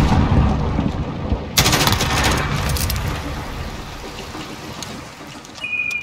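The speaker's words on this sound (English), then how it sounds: "I got a random grenade throw" A grenade explodes in a shooter video game with a loud broadband burst amid ongoing gunfire and combat noise, followed by a rumbling tail that slowly fades.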